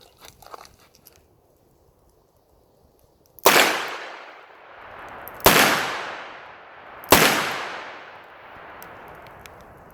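Three loud revolver shots from a Smith & Wesson 686 fired from the draw at a range, evenly spaced about two seconds apart, each sharp crack followed by a ringing decay, with faint handling noise before.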